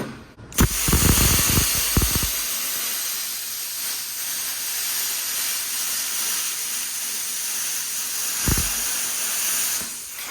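A VEVOR plasma cutter slices a circle out of a metal hood, giving a steady, loud hissing roar for most of the stretch after a few sharp crackling starts, with a brief burst near the end.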